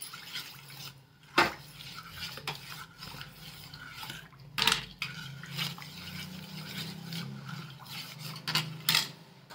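Green chili and garlic paste being stirred into a pot of Khandeshi kadhi, a spoon scraping and knocking against the vessel in a few sharp clinks over a soft continuous stirring rub, close and alone without talk.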